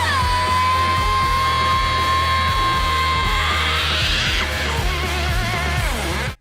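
A distorted rock guitar solo plays in a song. Loud screams and wailing vocals ring over it, with pounding drums underneath, all dense and intense until a sudden cutoff.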